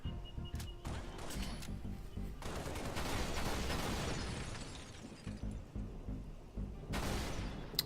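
Rapid weapon fire from a Needle Rifle in the shooter game Halo: Reach, with repeated sharp shots, crackling impacts and bursts of combat noise rising and falling over several seconds amid battle effects.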